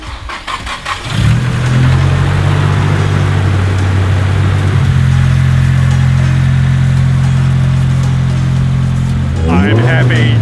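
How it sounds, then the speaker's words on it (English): A Nissan Silvia S15 with an external wastegate fired up: a short crank catches into a loud, steady, rumbling idle that holds for several seconds, then rises with a quick rev near the end. "All right, moment of truth, starting the car."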